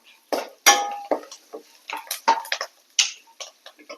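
A metal spoon stirs lemon rice with asafoetida in a pan, giving a run of close, irregular clinks and scrapes against the metal with short pauses between strokes.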